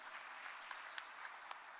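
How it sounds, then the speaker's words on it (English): Applause at a professional audit conference, a steady patter of many hands clapping at moderate level with a few sharper claps standing out, no voices. "So round of applause to you."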